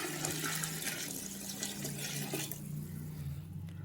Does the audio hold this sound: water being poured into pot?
yes